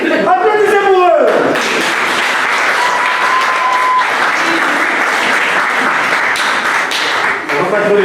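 Guests at a traditional wedding applaud the newlyweds, a loud sustained burst of clapping from a crowd that fills the room after a voice, with scattered cheers and chatter running underneath.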